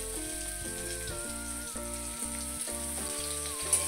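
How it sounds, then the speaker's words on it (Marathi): Finely chopped onion fries in hot oil in a kadhai, giving a soft, continuous high sizzle. It sits quietly beneath a louder melodic music track for the whole stretch. "आता इथे तेल गरम झालेलं आहे, याच्यामध्ये हा एक कांदा बारीक चिरून टाकून घ्यायचा आहे"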